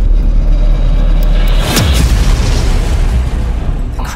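A deep, loud booming crash explosion rumbles through the alien planet setting of the video game Returnal, a heavy low-end blast with a sharp burst in the middle that trails off into a lingering rumble, no voices.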